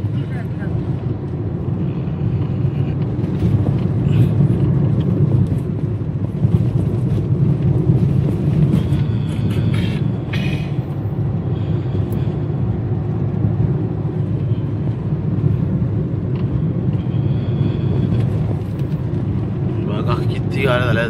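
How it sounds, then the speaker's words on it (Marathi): A steady hum of traffic goes on throughout as many cars pass on a road, heard from inside a car on a road trip from Pandharpur to Mahabaleshwar, with a continuous low engine and road drone. "किती गाड्या झाल्या. जवळजवळ 100-150 गाड्या झाल्या."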